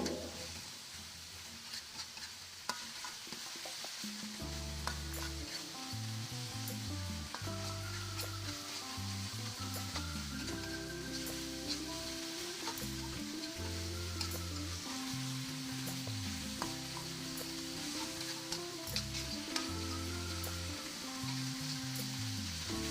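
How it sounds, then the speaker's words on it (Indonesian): Spice paste for spicy-sweet chicken feet sizzles steadily in a pan while being stirred, a constant close frying hiss with occasional scraping clicks, no voices. "Kita masak bumbunya sampai tercium wangi dan matang ya bun."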